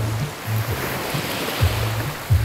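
Sea waves wash onto a beach in Lobo, Batangas, giving a loud, steady surf roar that stays under heavy wind buffeting and periodic low rumbles.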